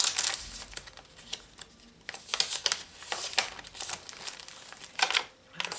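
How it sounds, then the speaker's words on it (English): Tracing paper is handled and crinkled close by, producing crisp, irregular crackles and rustling bursts that rise and fall over several seconds. "Tracing paper."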